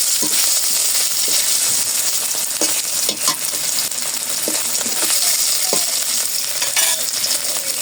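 Paneer fries in a hot spice tempering in a pan, with a loud, steady sizzle throughout and occasional scrapes and clinks of stirring.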